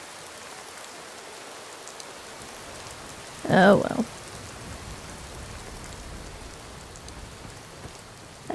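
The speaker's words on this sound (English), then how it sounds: "And now it's raining." Steady rain falls in a Skyrim game scene, a constant broadband hiss throughout with a short louder burst midway as someone briefly speaks.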